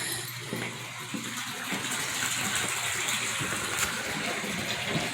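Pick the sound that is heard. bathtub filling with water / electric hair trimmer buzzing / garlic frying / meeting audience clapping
bathtub filling with water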